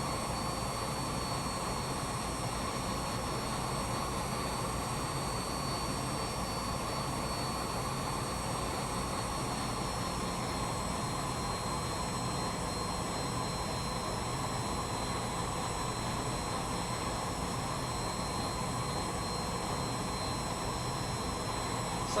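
Steady, continuous jet engine roar from a flight simulator airliner taxiing and turning on a runway, a constant broadband hum with faint high whine throughout, no talk.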